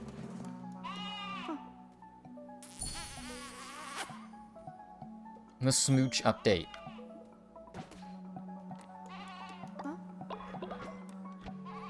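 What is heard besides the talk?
sheep bleat from the video game Cult of the Lamb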